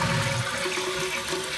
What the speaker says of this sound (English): And I can flush this toilet now.